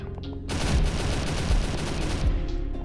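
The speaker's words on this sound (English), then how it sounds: "just stop shooting at us" Rapid automatic gunfire in a Roblox SCP roleplay game, a dense sustained burst that starts abruptly after a brief quiet moment and continues loud and close to the end.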